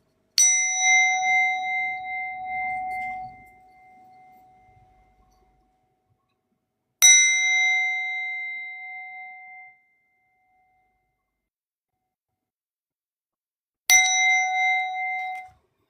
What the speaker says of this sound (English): I am going to go ahead and do my singing bowl just a little bit here